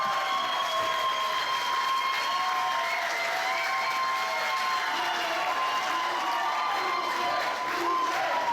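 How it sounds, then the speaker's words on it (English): A wrestling crowd at a live Espíritu Pro Wrestling event cheers and applauds Ruben's victory, a sustained roar of clapping and shouting that fills the hall at steady volume. "The crowd is ecstatic, celebrating Ruben's victory."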